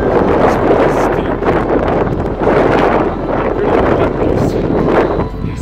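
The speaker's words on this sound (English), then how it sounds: "It's been really windy" Strong, steady wind on Windy Point Ridge near Nordegg, Alberta roars and buffets the microphone, gusting in waves throughout with no pauses.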